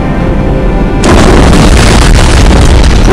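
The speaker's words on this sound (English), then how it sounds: "I guess an antimatter charge." An antimatter charge detonates aboard a starship in the Halo video game, with a loud, sudden booming blast and a sustained roaring rumble after a quieter hum, at close range with no talk.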